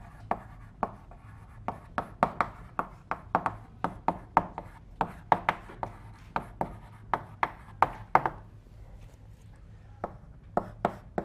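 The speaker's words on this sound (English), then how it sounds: "And let me write down some characteristic features here." Marker or chalk writing on a board during a university materials science lecture, a steady run of sharp taps and short strokes at close range with brief pauses, no talking.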